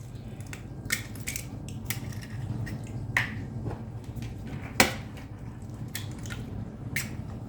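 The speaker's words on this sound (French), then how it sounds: "je vais casser mes œufs" Eggs being cracked for madeleine batter, a few sharp, close snapping cracks and shell taps spaced irregularly over a quiet kitchen background, with faint wet squishes between them.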